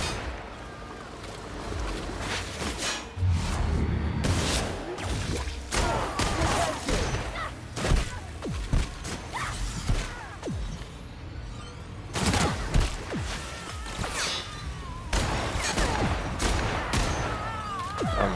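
Gunshots in The Outer Worlds ring out in repeated volleys and single cracks across a long, busy stretch, layered over a continuous rumbling game backdrop.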